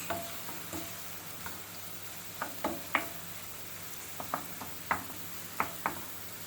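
Homemade village tomato paste sautéing in a pan for cheesy menemen, a soft steady sizzle broken by irregular scraping clicks of a utensil stirring, close and moderately loud.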